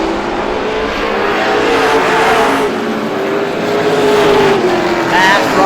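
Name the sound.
stock cars racing at Star Speedway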